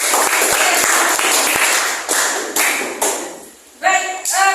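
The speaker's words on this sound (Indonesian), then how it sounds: "kita kasih aplaus" A classroom group gives sustained applause after its presentation, dense clapping from many hands filling the room, then fading into scattered claps and noisy voices.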